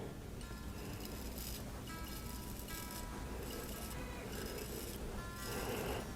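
A freshly sharpened plane iron from an old cheap No. 5 fore plane is rubbed back and forth in a workshop, giving steady gritty rasping strokes that continue through the clip at close range.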